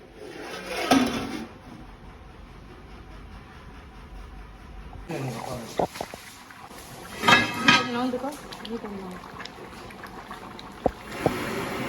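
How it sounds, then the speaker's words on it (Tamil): Rice being stirred in a large pot of boiling water for a 4 kg chicken biryani, with metal spoon scrapes and clanks against the pot in bursts, loud and close, with some talk mixed in. "ரைஸை போட்டுட்டு நம்ம அந்த ரைஸ் உடையாத மாதிரி கிண்டிடணும்"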